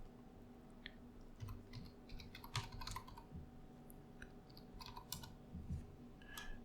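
Typing on a computer keyboard to enter a cd command into a terminal while setting up a Laravel 6 application: a run of quick, close key clicks with uneven rhythm and a few sharper taps.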